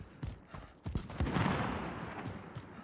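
Several sharp gunshots crack in quick succession, then a rushing burst of noise, like a firefight some distance away, in the video game Call of Duty: Warzone.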